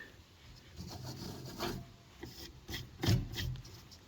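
Belt pulleys on a Craftsman riding mower with a loud hydrostatic transmission are turned slowly by hand, giving faint, irregular rubbing and rasping scrapes with a few sharper scuffs, quiet and close.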